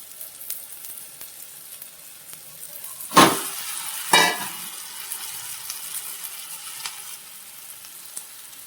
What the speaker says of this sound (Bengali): এবার ডিমগুলো দিয়ে দিচ্ছি